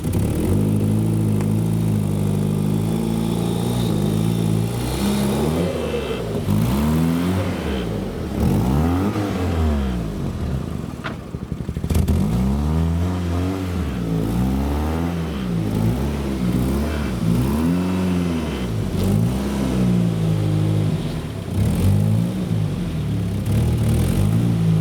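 A Toyota Celica GT4 engine idles and revs in repeated rising and falling surges while the car is being moved on a driveway, close and steady throughout with no voices.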